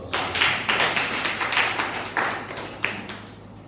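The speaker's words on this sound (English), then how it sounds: "Brief but powerful. Another round of applause." Audience at an anniversary event gives a short round of applause, sounding as a few loud, rhythmic bursts of clapping close by that fade out after a few seconds.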